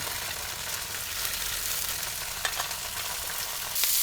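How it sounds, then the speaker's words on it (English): Broccolini and other vegetables fry in a pan in a truck camper, giving a steady, even sizzle that holds at one level throughout, close up, with no voices. "So I let the broccolini cook up a little bit before putting the mushrooms in"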